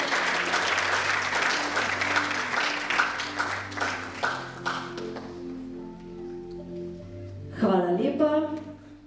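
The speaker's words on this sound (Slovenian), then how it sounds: "Še aplavz za odličnjake iz osnovne šole Loče." Applause from a school awards audience in a hall, loud steady clapping that thins into scattered claps, then a voice starts speaking over the last few.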